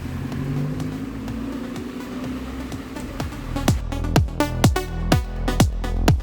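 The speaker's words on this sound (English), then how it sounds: "Let's start driving." A car being driven toward Modena in Germany in snowy conditions, its engine humming steadily, followed by a series of rhythmic thumps in the second half as it rolls over bumps or road joints.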